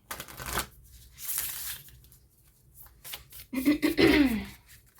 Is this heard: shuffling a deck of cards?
yes